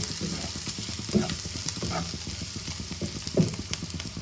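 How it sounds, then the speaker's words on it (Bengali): Spices with turmeric powder fry in a pan for an egg and potato masala curry: a steady crackling sizzle with occasional louder stirring knocks and scrapes. "অল্প হলুদ গুঁড়ো দিয়ে দিলাম। ভালো করে ভাজবো।"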